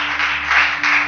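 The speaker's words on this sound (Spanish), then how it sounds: "Aplauso a Dios." A congregation applauds during a church service, a dense and continuous burst of clapping that stays loud through the whole moment, with a low steady hum underneath.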